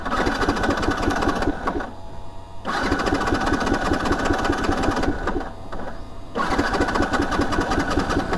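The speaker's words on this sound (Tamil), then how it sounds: "உங்களுக்கு கடைசியான ஒரு டைம் வந்து பார்த்திங்கன்னா ஸ்டார்ட் பண்ணி காமிக்கிற பாருங்க." Yamaha R15 V2 motorcycle engine cranking repeatedly without starting, its loud, dense starter-motor whir running in two long bursts separated by short pauses.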